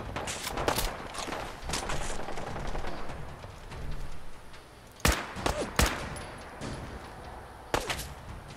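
Gunfire in the video game Fallout 4 rattles through in rapid bursts, followed by several sharp, separate single shots, fairly quiet overall.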